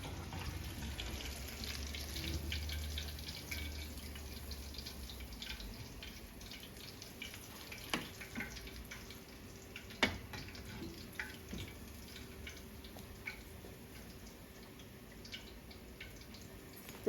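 A kitchen tap runs steadily into cold water for cooling air-fried eggs, a constant mid-level wash of flow with small splashes and clinks, no talking.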